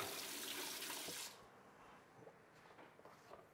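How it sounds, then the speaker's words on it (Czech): Tap water splashes while a silicone bundt cake mould is rinsed, a close, loud rushing flow that cuts off abruptly after about a second, followed by faint drips and small handling clatters. "Použiju formu silikonovou, takže vypláchnu vodou"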